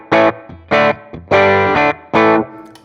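An electric guitar played through a Sonicake Matribox 2 Pro multi-effects unit with the fat boost engaged gives a driven clean tone, with four loud strummed chords in a stop-start rhythm and short pauses between them.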